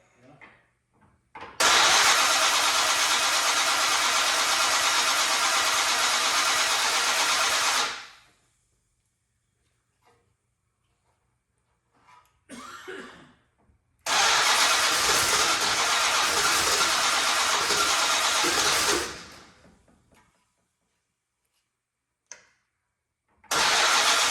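Old barn-find Monaco engine, sitting unused for 36 years, cranks and fires into two long, loud running bursts separated by quiet gaps, with shorter sputters of cranking between them.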